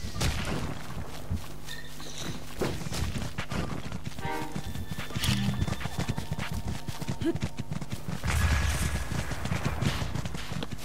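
Horse hooves clip-clop steadily with a possible faint whinny in Zelda: Breath of the Wild, set against a busy game soundtrack and ambience, the hoofbeats fairly close and continuous.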